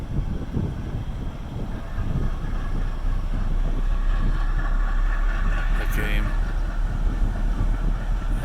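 A diesel towboat pushing a barge through a train bridge on the river at Clinton, Iowa, a low steady engine rumble that builds as it powers through, heard from a distance under wind noise and voices.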